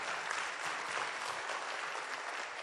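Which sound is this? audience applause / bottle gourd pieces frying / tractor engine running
audience applause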